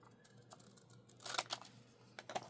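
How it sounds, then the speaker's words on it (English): A few quick snipping cuts of scissors through cardboard near the microphone, crisp and scratchy, in a short cluster against a quiet background. "I'm just whacking this out with the scissors."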